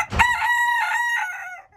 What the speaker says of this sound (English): you can see there's a lot of chickens here